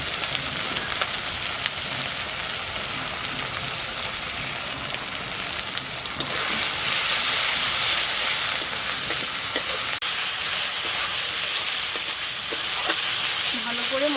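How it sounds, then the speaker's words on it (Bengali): A spice paste with chili powder sizzles and fries in a pan for a fish dish, a dense continuous crackle that swells louder midway, with stirring scrapes and no voices. "ভালো করে মশলাটাকে কষিয়ে নিচ্ছি।"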